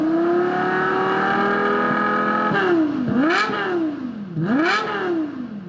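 A Lexus LFA Nürburgring edition, with its hand-built engine and triple exhaust, holds a loud, high-pitched wail, then blips sharply up and down in two quick revs.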